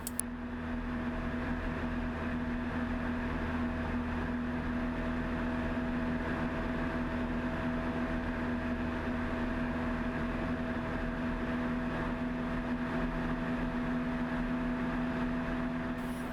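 A small airplane engine drones steadily in flight during a herring survey over coastal water, with a constant, even hum and no voices throughout.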